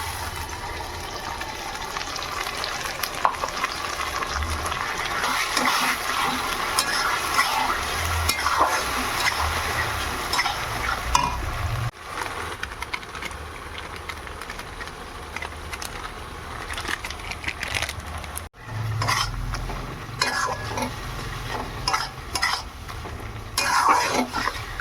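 Meat frying with a prepared spice paste in a pan on a home balcony, a steady sizzle with frequent stirring scrapes and clinks of a utensil against the pan, close and continuous with almost no talking.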